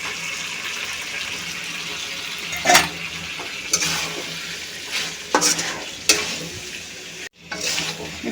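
Fried small red potatoes are stir-fried into a spicy meat curry, a constant frying sizzle broken by several sharp scraping stirs of a spoon in the pan, close up and with no talking.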